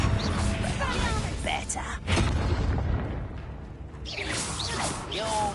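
A Confringo blasting spell erupts in Hogwarts Legacy combat, a booming burst with whooshing spell effects, loud amid other clashing noise while a voice speaks briefly.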